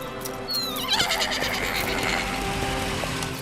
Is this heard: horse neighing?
yes